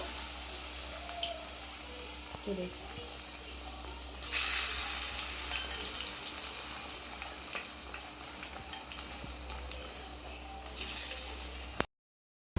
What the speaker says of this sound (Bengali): গরম গরম তেলের মধ্যে ছেড়ে দেব একে একে সবগুলোকে এরকম তেলের মধ্যে ছেড়ে দেব